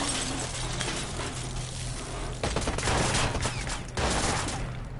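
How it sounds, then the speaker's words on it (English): Bursts of heavy gunfire in the Watch Dogs video game, rapid cracking volleys with sharp clusters of loud shots toward the end over a dense noisy backdrop. "Oh, it sounds like they got some big guns."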